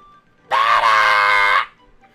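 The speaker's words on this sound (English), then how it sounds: "Screaming to assert dominance." Toad from the Captain Toad: Treasure Tracker video game lets out a single loud, sustained high-pitched scream lasting about a second, alone and close.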